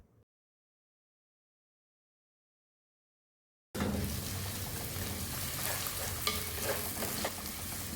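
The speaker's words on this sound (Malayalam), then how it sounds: "ചതച്ച് വെച്ചിട്ടുള്ള ഇഞ്ചി വെളുത്തുള്ളി എല്ലാം നമുക്ക് ഇട്ട് ഒന്ന് വഴറ്റിയെടുക്കണം." Crushed ginger, garlic and mustard seeds sauté in hot oil for a Kottayam-style fish curry. A constant close sizzle begins abruptly after several seconds of silence and carries on, with occasional light stirring scrapes.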